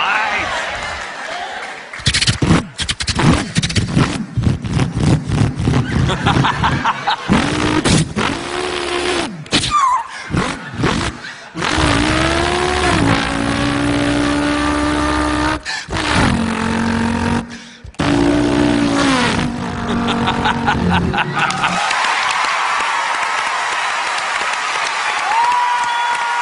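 A man vocally imitates a V8 car engine revving, producing rising and falling engine-like roars in repeated bursts with abrupt cuts, loud and close, with crowd applause and cheering in places.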